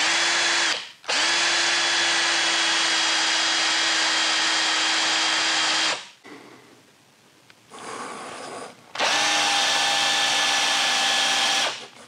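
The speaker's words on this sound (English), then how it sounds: "Going to be using a 5/16" Forstner drill bit." Three loud bursts of power drilling with a 5/16-inch Forstner bit, each a steady high whine lasting a few seconds, with a quieter rustling pause between the second and third.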